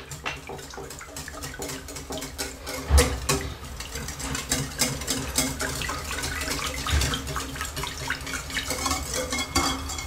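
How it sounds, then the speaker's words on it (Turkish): Oil mixed with activated charcoal is poured into a soap mould, producing a soft, continuous liquid pour with a few low knocks and faint handling noises, with no talking. "Bütün kalıp siyah yapmak istediğim için hepsi direkt yağ döküyorum"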